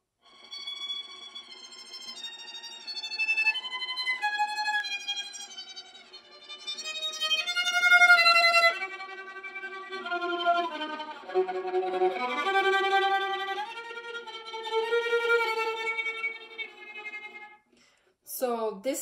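Viola bowed very close to the bridge, giving a thin, glassy, eerie tone with bright overtones as a series of sustained notes shifts in pitch, heard alone and close up for about eighteen seconds.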